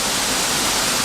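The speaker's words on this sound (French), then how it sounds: "ça fait du bruit la cascade" A waterfall roars loudly and steadily beside a campsite, a dense, unbroken wash of rushing water filling the whole scene with no voices.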